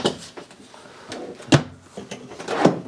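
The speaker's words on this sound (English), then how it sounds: "Once again, self-closing drawers." Self-closing drawers in a fifth wheel RV bathroom slide shut, producing a few soft thumps and clicks spaced over a few seconds, close by and fairly quiet.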